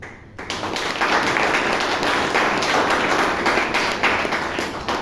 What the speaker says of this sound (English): Give a big round of applause for all the speakers.